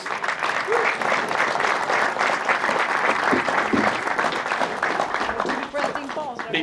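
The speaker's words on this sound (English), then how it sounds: "Let's give them a round of applause." At an energy summit opening reception, a crowd gives the board of directors a round of applause, steady, full clapping that holds for several seconds before tapering off, with some voices underneath.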